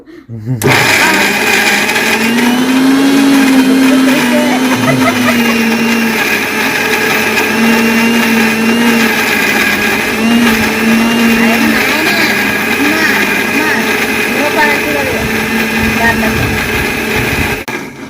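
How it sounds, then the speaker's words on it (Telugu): A mixer grinder blends raw mango chutney, a loud, steady whirring motor drone that runs without a break for about eighteen seconds, with some talk faintly underneath. "ఇంకా మిక్సీ పట్టుకుందాం"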